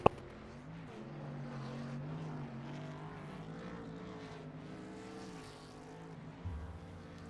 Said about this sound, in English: And that is a really nice burnout there.